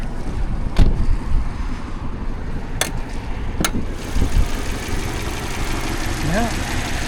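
A repaired Ford Focus engine idles steadily at close range, a continuous low mechanical hum with a few sharp clicks and knocks over the top.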